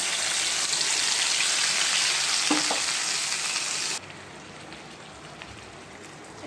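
Spice paste hitting hot oil tempered with cumin seeds and bay leaves, a loud dense sizzle for about four seconds that abruptly drops to a quieter frying hiss, with a brief stir clink, no voices.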